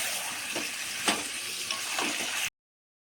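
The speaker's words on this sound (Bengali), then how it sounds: "দিয়ে দিচ্ছি ভেজে রাখা আলুটা, দিয়ে ভালো করে কষে নেব।" Fried potatoes and chicken sauté in oil in a pan, a steady close sizzle with a few louder bursts as the pieces are stirred, ending abruptly.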